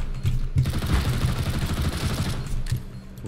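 Rapid automatic SMG fire in a video game rattles loud and close in dense bursts that run almost without pause across the whole stretch.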